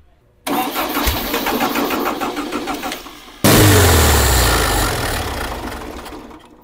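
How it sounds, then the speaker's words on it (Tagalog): A carbureted engine with a suspected clogged carburetor cranks and fires, first a fast rough churning, then catching into a louder steady run that slowly settles toward idle, close and loud with no talk. "Bago ko ituloy-tuloy itong pagpapatakbo natin, pagpapaandar natin dito sa makina"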